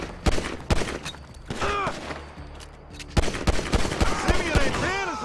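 Rapid bursts of gunfire from a shootout in the video game GTA 5 on PS4, sharp loud shots in quick clusters mixed with thuds and chirping effects, with voices shouting over the fight.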